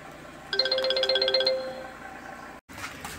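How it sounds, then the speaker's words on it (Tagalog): An incoming call ringtone on a mobile phone inside a Honda BR-V plays a bright, repeating electronic melody of quick chiming notes for about a second, then stops. A brief dropout follows, and the car's background hum continues. "Tumatawag sa cellphone natin."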